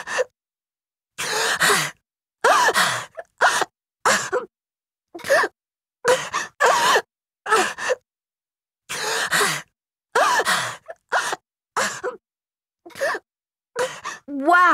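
A Nancy Drew game character trapped and suffocating gasps for air in a long series of short, strained breaths and moans, separated by silent pauses, close and alone.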